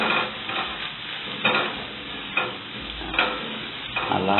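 Onions frying in a pan for an omena (dagaa) dish sizzle steadily and close, while regular stirring strokes scrape through the pan about once a second.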